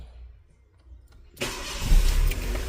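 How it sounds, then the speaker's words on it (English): A 2001 Toyota Corolla engine cranks and catches after a quiet pause, then settles into a loud, steady idle close by. "I want to start the vehicle up."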